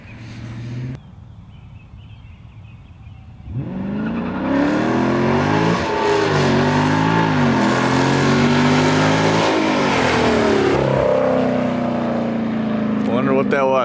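A Dodge Challenger Scat Pack with the 392 engine launches on the street for a 0-60 run, its loud engine note climbing steadily through the gears with a brief tire spin and sustained roar from close by.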